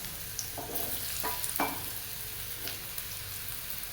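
Cut radish pieces hit hot oil in a pan with the flame switched off, giving a steady soft sizzle broken by a few spoon scrapes and stirring knocks, with no voices.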